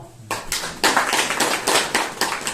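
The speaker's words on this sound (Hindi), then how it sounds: "चलो ठीक है, सब अपने अपने खुशी की ताली बजाओ।" Audience at a Brahma Kumaris murli gathering in Shahabad Markanda breaking into a burst of joyful hand clapping, a steady dense patter of many hands close by that swells after a brief quiet start and continues throughout.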